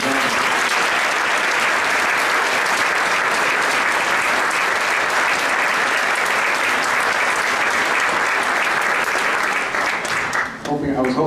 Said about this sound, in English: Another big round of applause for our donors.